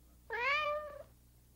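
One clear, drawn-out meow rises and then falls, heard close and alone against a quiet background.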